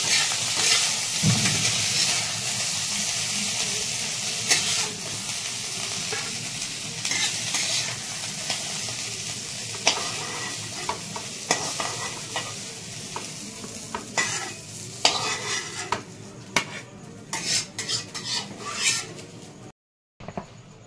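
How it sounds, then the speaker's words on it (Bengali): Cauliflower sizzles in a hot pan while a spatula scrapes and stirs repeatedly, the frying hiss steady under irregular clatters, with a brief silence near the end. "আমার কপিটা ভাজা হয়ে গেছে, এবার আমি"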